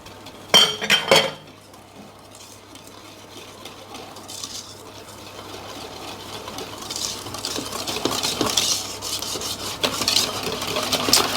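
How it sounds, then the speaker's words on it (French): A whisk scraping and tapping around a bowl of madeleine batter, starting with a few sharp clinks and building into a quicker, louder rhythmic rubbing close by. "Donc je le fais avec le fouet."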